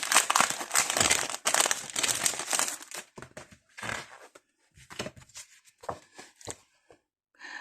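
Crinkly plastic packaging of a Masquerade washi pad being torn and crumpled open, loud and busy at first, then breaking into shorter scattered crackles and pauses.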